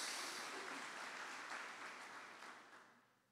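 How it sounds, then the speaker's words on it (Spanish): A Spanish-speaking Pentecostal church congregation applauds during a sermon, a soft, distant wash of clapping that slowly fades out. "Si quiere aplaudirle, aplaudir."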